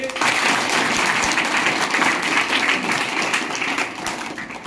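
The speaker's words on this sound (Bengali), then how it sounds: "সবাই হাততালি" A group of students at a high school event claps together, a steady, fairly loud wash of many hands lasting several seconds and tapering slightly at the end.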